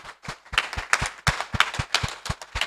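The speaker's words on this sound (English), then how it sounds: "Let's applaud her" Audience at an annual general meeting claps in a rhythmic, close, loud burst of distinct individual hand claps, a few people clapping in unison with sharp regular beats.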